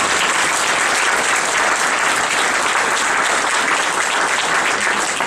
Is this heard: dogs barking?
no